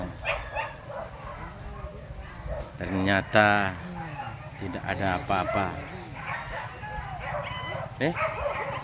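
Dogs bark and yip during a hunt in hilly countryside, several sharp barks and whimpers rising in the middle and scattered afterward, heard under steady conversation from people nearby.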